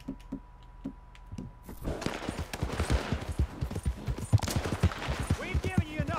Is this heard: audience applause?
no